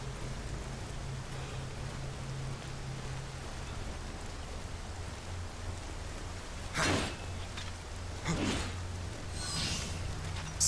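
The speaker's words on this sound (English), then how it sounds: "The rain effect is doing its smallness too." Steady hissing rainfall from the Nioh video game's lakeside level, continuous and even, broken by a few louder whooshing bursts and a low hum underneath.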